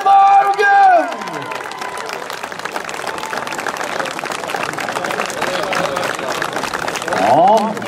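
Crowd at a club-level bilcross race event in Sigdal cheers and claps for the race winner on the podium, with a steady wash of applause and voices while an announcer talks over a loudspeaker.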